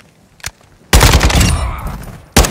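Sustained machine-gun fire in a stormy night battle in Call of Duty: Modern Warfare II, preceded by a single sharp shot, then a loud dense burst lasting over a second and another blast cutting in at the end, with no talk.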